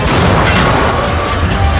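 A tank gun fires in a World War II film. A loud, dense blast fills the whole moment with a booming rumble and no pause.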